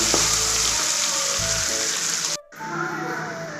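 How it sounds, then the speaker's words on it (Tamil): Onion, green chilli, ginger and garlic frying in a pan for semiya kichadi give a steady, bright, hissing sizzle that fills the whole stretch. It is close and loud with no speech, and it briefly drops out near the end before resuming. "இப்போ நம்ம வெங்காயம் பச்சை மிளகா இஞ்சி பூண்டு சேர்த்துக்கலாங்க நல்லா வதக்கலாங்க"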